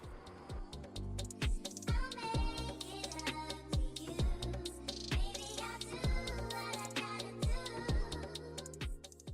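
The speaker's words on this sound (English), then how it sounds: "So now I'm just printing the second part of the picture" An inkjet printer feeds and prints a sheet of heat transfer paper, its head carriage ticking and whirring in a steady repeating rhythm of clicks and short mechanical strokes, close and moderately loud, with no talking.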